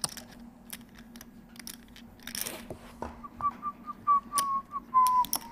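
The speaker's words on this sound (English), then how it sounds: "Dwan also a professional whistler" A poker player at a high-stakes heads-up table whistles a short wavering tune, the notes rising and falling near the mic over faint clicks of chips.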